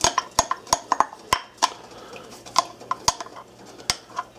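Utensil stirring an egg yolk mixture in a pot on the stove for lemon meringue pie: irregular sharp metallic clinks and taps against the pot, close and fairly loud, with a faint hum behind.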